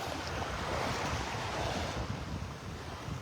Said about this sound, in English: The tide is on its way in.